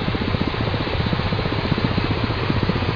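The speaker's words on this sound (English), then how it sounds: "move the left engine throttle to auto" Ka-50 Black Shark helicopter engine running during startup in the DCS flight simulator, a steady low turbine drone with rhythmic rotor-like pulsing, continuous and fairly loud, with no voices.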